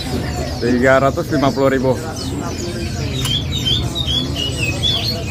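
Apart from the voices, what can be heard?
murai trotol gemlingan bird calling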